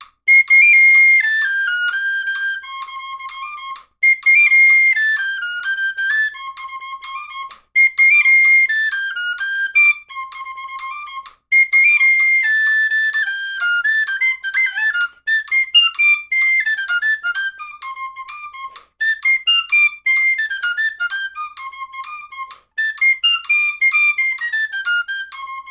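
A tin whistle plays a simplified version of a famous solo with few ornaments, bright repeated descending phrases separated by short breaths, loud, clear and unaccompanied.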